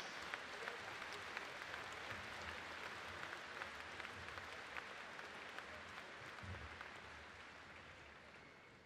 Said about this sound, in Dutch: Een daverend applaus